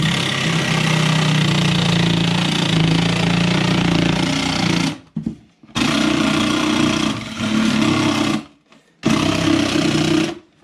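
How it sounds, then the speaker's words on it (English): Small 12-volt cordless reciprocating saw cutting in loud, buzzing bursts, running continuously for about five seconds before stopping and starting again in shorter runs with brief silences between. "I got this little 12-volt fucking reciprocating saw."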